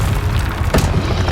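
Confringo, the explosive spell in Hogwarts Legacy, goes off as a loud, close, deep booming blast with a heavy low rumble that swells briefly in the middle.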